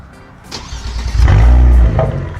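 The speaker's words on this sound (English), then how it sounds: "This is a straight piped Kia Stinger GTS with the SLEEPYTUNED, so this thing's gonna be pretty loud." A straight-piped, tuned Kia Stinger GTS twin turbo V6 cranks and catches, then roars loudly with a deep, throaty rumble before settling slightly, close by.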